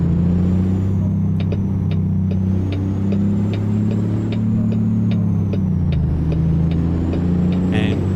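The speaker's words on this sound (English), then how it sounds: "Let me jump back in the cab, get the truck rolling." Heavy truck engine droning steadily in American Truck Simulator, a deep low hum with faint rhythmic clicks above it, continuous and fairly loud throughout.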